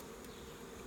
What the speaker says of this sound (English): These bees are aggressive.